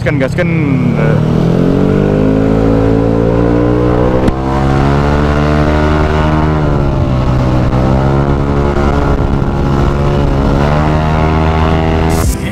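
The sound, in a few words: motor scooter engine revving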